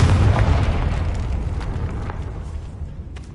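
The Confringo spell explodes in Hogwarts Legacy as one loud booming blast that rumbles and fades over a few seconds.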